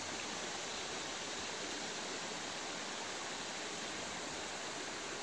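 Water in Sail Creek flows in a steady, unbroken rush, a close and fairly loud wash of sound with no voices over it.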